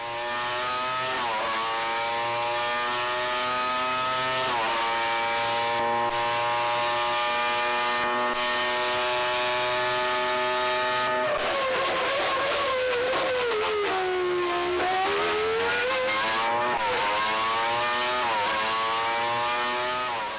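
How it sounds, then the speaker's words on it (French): A Renault V10 Formula 1 engine on a test bench replays a Hockenheim qualifying lap, screaming loud and close through repeated high-rpm sweeps, sharp gear-change dips and a long falling-then-rising pitch. "l'enregistrement d'un tour de qualification à Hockenheim permet de reproduire au banc l'exacte quête des très hauts régimes"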